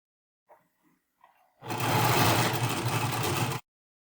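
A domestic sewing machine chain piecing quilt blocks for a diamond four-patch, starting after a few faint handling clicks and then running in one steady, loud, close mechanical whir for about two seconds before stopping abruptly.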